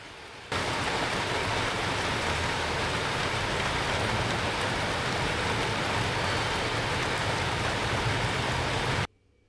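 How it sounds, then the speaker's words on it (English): Steady rain falls on a cool, rainy day in Vietnam, a dense, continuous hiss that starts abruptly, holds evenly for about nine seconds with no voices, then cuts off. "It's cool and rainy today"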